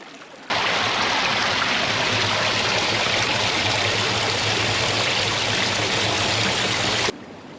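A glacial river flows in a steady, loud rush of water close by, with no voices heard over it.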